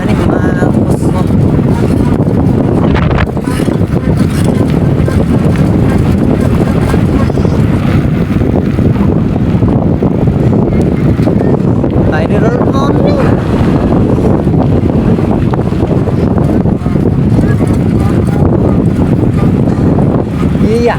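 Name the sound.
strong wind blowing into the microphone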